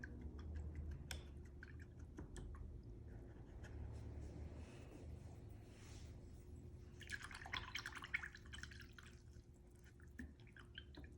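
A paintbrush is rinsed in water while painting a cow, giving faint, soft dripping and light tapping sounds over a steady low background hum, with a brief burst of splashy swishing near the end.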